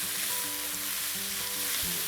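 Curry powder and spices frying in oil in a large pan, a steady close sizzle with a faint hum underneath, no voices.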